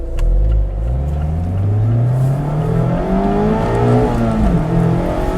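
A 2022 Mazda Miata's engine revs hard through two gears at high RPM, loud and close, with rising and falling harmonic sweeps between shifts and no talking.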